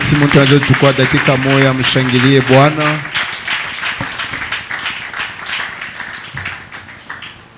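A church congregation claps to acclaim the Lord during a service. A voice is heard first, then steady, dense applause takes over and slowly fades.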